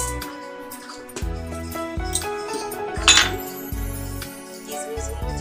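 A spoon clinks and scrapes against a metal pot while jaggery is added to and stirred into cabbage payesh, producing a run of close, bright metallic knocks and rattles in an irregular rhythm, with no voices.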